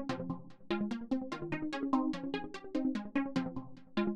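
A pluck synth melody runs through Shaper Box Filtered Motion SC and Gross Beat Soul Gate 2, its short bright notes chopped into a steady rhythmic pulse with shifting filtered tone, played alone and fairly soft.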